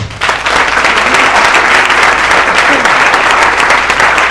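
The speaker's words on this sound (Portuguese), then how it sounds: "A Ele uma salva de palmas." A church congregation claps together during a worship service, dense sustained applause starting abruptly and holding steady and loud throughout.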